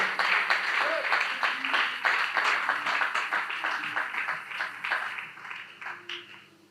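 A church congregation applauds during a Sunday worship service, a dense sustained clapping that fills the room and gradually thins toward the end, with voices mixed in.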